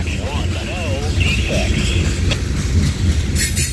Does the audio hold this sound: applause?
no